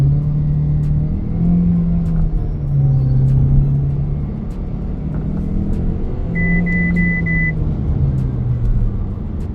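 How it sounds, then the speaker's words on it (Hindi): A 2025 MG HS plug-in hybrid SUV accelerates hard from a standstill toward 100 km/h, its engine rumbling and rising in steady revving surges through gear changes, loud and close throughout, with a brief high whine partway through. "फिलहाल इस गाड़ी का 0 to 100 करके चेक करते हैं"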